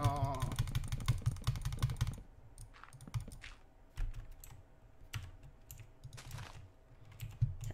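Loud, rapid clicking from a computer keyboard and mouse during a Minecraft Build Battle game, dense bursts at first, then sparser scattered clicks over a low steady hum.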